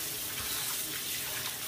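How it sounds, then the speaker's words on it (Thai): Tap water runs steadily into a basin while intestines are washed, a continuous close, hissing splash with no pauses or speech. "ก็เปิดน้ำล้างแบบนี้เลยครับ"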